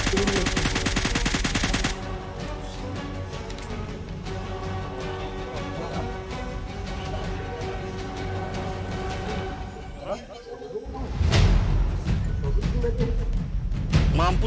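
Gunfire in PUBG Mobile: dense, steady volleys of rapid automatic shots that run almost without a break. A heavier burst comes near the end.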